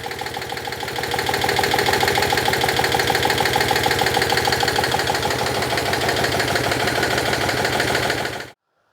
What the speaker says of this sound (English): They reckon these engines do sound different with the 2CV